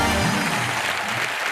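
Studio audience applause on a comedy show stage, a short burst of dense clapping heard at moderate level, fading slightly toward the end.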